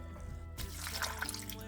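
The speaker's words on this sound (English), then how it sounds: "I am going to add about half a can of water to this." Water poured from a can into a crockpot holding frozen chicken breasts and Rotel, a steady close liquid splash and trickle lasting under two seconds.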